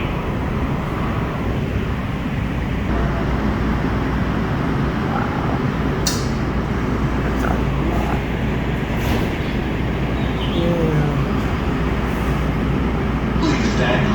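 Los Angeles Metro train pulling into Monrovia Station Square Transit Village, a steady loud rumble of wheels and motors running throughout, with brief higher screeches and a recorded announcement voice over the noise.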